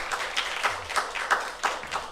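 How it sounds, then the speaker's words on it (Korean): A congregation applauds a choir at a Hanyang University chapel service during Easter week: a light, fairly faint patter of separate claps in a loose, steady rhythm. "우리 대한민국 최고의 성가대입니다. 우리 격려의 박수 하겠습니다."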